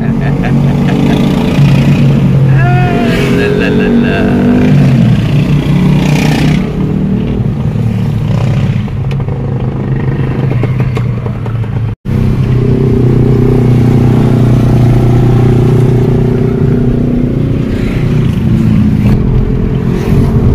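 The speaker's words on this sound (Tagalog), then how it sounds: "Ingay talaga ng motor." A Yamaha R15 V3 motorcycle engine drones loudly and continuously while riding, with wind rush and a voice talking over it at times.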